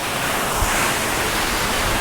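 Water from Namaste Jharna, a waterfall in eastern Nepal, crashes and sprays in a steady, dense broadband roar close by, with wind gusts adding low rumbles; no one speaks.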